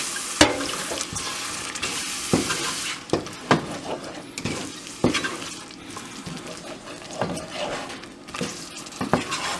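Masala for aloo matar curry fries in a pan and is stirred, with repeated scraping spoon strokes and clicks over a continuous soft sizzle. No one talks.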